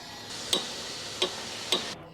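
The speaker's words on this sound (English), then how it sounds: "Thread the nut and tighten with a 15mm ratchet wrench." 15mm ratchet wrench tightening the stabilizer link nut on a Ford Escape, three separate faint metallic clicks spaced about half a second apart.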